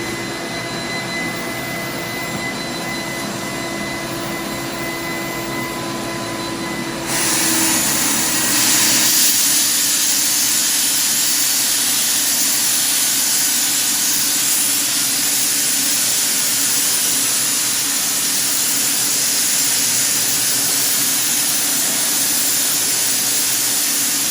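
A Titan Cap Spray 115 HVLP paint sprayer runs as a steady, loud airy hiss, with a quieter turbine tone for the first seven seconds before the spraying hiss swells and holds evenly to the end.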